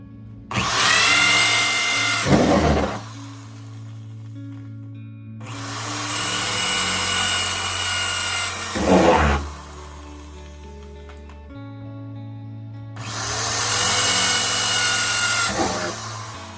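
A power drill whines through a 55-gallon plastic barrel in three bursts, each ending with a sharp grinding push, separated by quiet pauses with a low hum.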